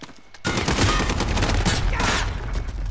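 Sustained automatic fire from a SCAR rifle in Call of Duty: Modern Warfare, a loud, dense rattling burst that starts abruptly and continues without pause.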